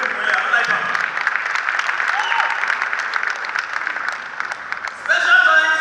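An audience at a live celebration event for an MC applauds in a dense, sustained burst of clapping that swells louder near the end, with a voice faintly audible beneath it.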